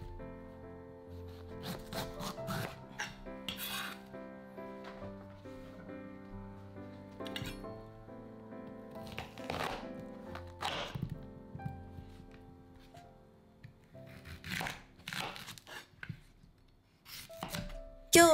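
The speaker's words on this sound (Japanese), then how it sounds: "根元の赤い点を削いで、硬い部分を包丁で薄く切ります。" Knife scraping and slicing through a firm bamboo shoot, with irregular rasping strokes and sharp cutting thunks against a board, close and fairly quiet.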